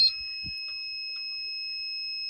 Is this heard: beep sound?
yes